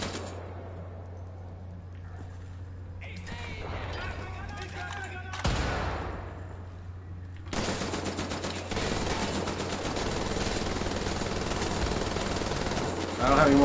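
Bursts of rapid automatic gunfire and single shots ring out in a video game shooter, loud and dense for several seconds, alongside game ambience and explosions.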